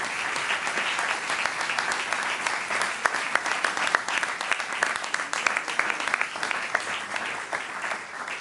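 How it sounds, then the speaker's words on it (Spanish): A church congregation claps loudly during a revival service, with steady, dense applause and a few sharper individual claps standing out near the middle, sustained throughout. "Dale un fuerte aplauso a Cristo"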